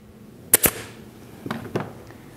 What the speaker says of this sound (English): we'll set a shot or two down into the bottom of the plywood